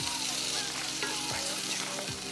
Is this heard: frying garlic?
yes